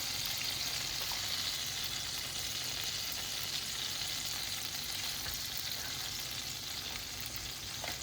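Oil sizzles and fries steadily in a large wok, a loud continuous crackle with a dense hiss that keeps going without a break.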